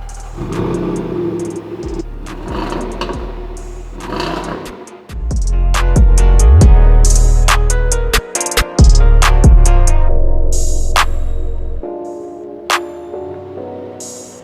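A 2018 Range Rover Sport SVR pulls away with a deep engine rumble, then revs hard through several loud, rising acceleration runs with brief gear-change dips, the engine close and dominant with no talking.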